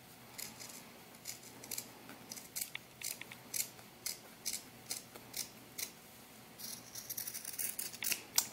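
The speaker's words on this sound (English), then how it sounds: "now you're going to cut right dead center in the middle of your collar" Small scissors snip fabric for a doll's collar in a series of quick, crisp, close cuts spaced about half a second apart, quiet overall with no talking.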